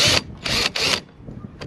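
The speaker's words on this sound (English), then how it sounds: "drive in my other screws" Three short, loud bursts of a screw gun driving screws into a hot tub panel, each about a quarter second long and close by, separated by brief pauses, then quieter handling noise.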